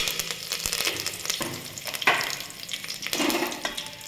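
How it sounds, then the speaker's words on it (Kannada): Bay leaf, mustard seeds, cumin and curry leaves dropped into hot oil for vegetable pulao, crackling and sizzling up close with bursts of spattering and a few stirring clinks. "ಇಲ್ಲಿ ಎಣ್ಣೆ ಇಟ್ಟಿದ್ದೀನಿ ಅದಕ್ಕೆ ಪಲಾವ್ ಎಲೆ ಸಾಸಿವೆ ಜೀರಿಗೆ ಕರಿಬೇವು ಹಾಕ್ತಾಯಿದ್ದೀನಿ"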